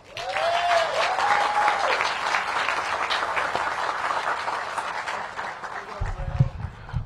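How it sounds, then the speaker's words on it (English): A crowd applauds steadily for several seconds, the clapping fairly close and sustained, with a few voices calling out near the end. "Give yourselves a round of applause."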